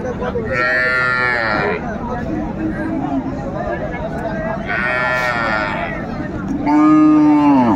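Cows moo loudly at a rural cattle market, with three drawn-out calls close by and a murmur of people in the background.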